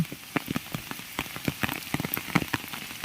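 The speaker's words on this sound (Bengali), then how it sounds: "এই যে বৃষ্টি চারপাশ দিয়ে পানি আর পানি" Rain falling close by, with irregular drops pattering and tapping on a hard surface over a soft steady hiss, no voices.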